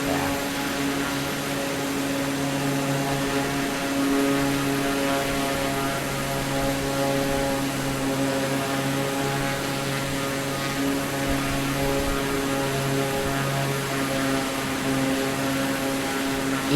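An AI-controlled aircraft's propeller engine drones steadily in Microsoft Flight Simulator 2024, a constant tonal hum and whir that holds loud and unchanging throughout with no speech.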